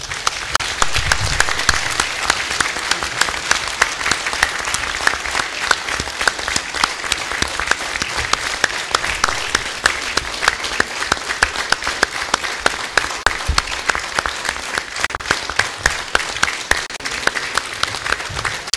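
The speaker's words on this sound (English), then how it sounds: "We want to give a hand clap and say thank you and God bless you." An audience at a humanitarian response plan launch in Nigeria claps for its donors in a long, steady round of applause. The clapping is loud and sharp and carries on evenly the whole time.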